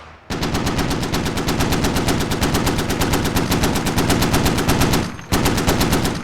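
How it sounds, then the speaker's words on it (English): A .50 caliber machine gun fires in a tactical video game scrimmage, a loud, rapid, sustained burst of evenly spaced shots, briefly pausing near the end before resuming. "This PMV laying down the withering fire with that 50 caliber."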